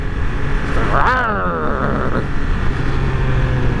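A 2021 Triumph Speed Triple 1200 RS engine revs sharply, its pitch sweeping up and then falling back to a steady, loud, close idle-like drone.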